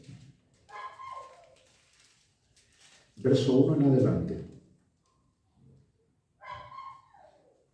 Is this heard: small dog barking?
yes